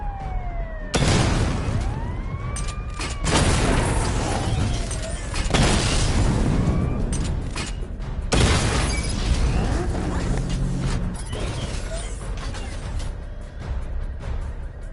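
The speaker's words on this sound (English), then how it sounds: "Charge the missile barrage to level 2 to destroy up to 4 targets at once." Missile barrage explosions from a Batman video game burst in a series of loud booms, each followed by a falling whine, with several heavy impacts spread across the stretch and no talk.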